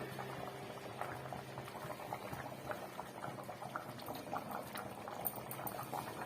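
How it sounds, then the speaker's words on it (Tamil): Water bubbles at a vigorous boil in a cooking pot, a steady churn of small pops and gurgles, fairly close and quiet, with no voices. "தண்ணி நல்லாவே கொதிச்சு வந்துருச்சு"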